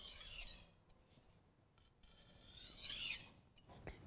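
A kitchen knife drags across a whetstone in two long, raspy strokes with lightened pressure, a close, fairly quiet grinding hiss separated by a brief pause.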